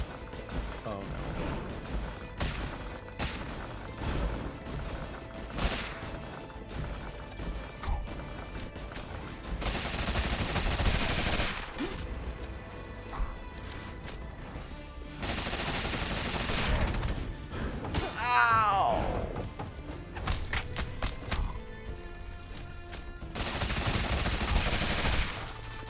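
Gunfire in the video game Rogue Legacy 2, repeated bursts of shots and crashes in irregular clusters, mixed with game sounds and music across the span.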